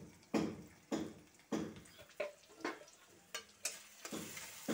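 Spices frying in a pan with Kashmiri chilli powder, coriander and cumin powder, stirred in repeated scraping strokes about once a second, each stroke a sharp sizzling swish, close and fairly quiet with no talking.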